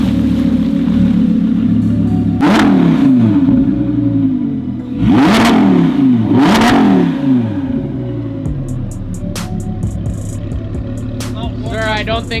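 A new McLaren's cold engine revs in several sharp bursts through a loud exhaust, each blip rising and falling over a steady idle, with people talking nearby.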